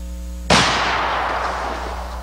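A single loud, close gunshot from a gun that can be fired one-handed, a sharp crack followed by a long rolling echo that slowly fades.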